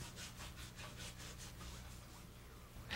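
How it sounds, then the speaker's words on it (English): PVC cable jacket being abraded ahead of a 15 kV splice, a faint, rhythmic scraping rasp in quick back-and-forth strokes. "Then abrade the PVC jacket and clean with solvent at each end of the splice."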